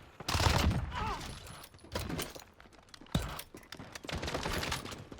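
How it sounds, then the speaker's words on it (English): Rapid Vector SMG bursts from Modern Warfare gameplay, several quick full-auto strings with short pauses, loud and close, with game action noise around them. "you fire so goddamn fast that they might not even have a time to react"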